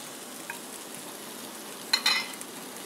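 French toast coated in sugar and cornflakes fries in a pan with a low, steady sizzle, broken by a brief clatter of a utensil near the end.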